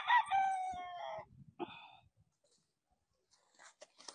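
A rooster on a gamefowl farm gives one loud, close crow lasting about a second, followed by a short second call and faint scattered clucks in near silence.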